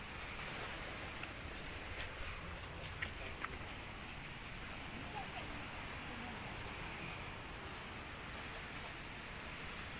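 Steady wash of surf rolling in along a shore, a constant broadband rumble with wind buffeting the microphone throughout.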